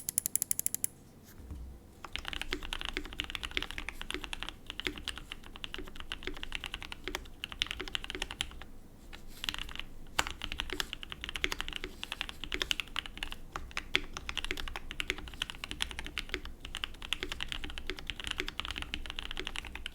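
Fast, steady clacking of a KBD67 Lite R2 mechanical keyboard with Gateron black ink switches being typed on up close, keystrokes dense and continuous with brief pauses.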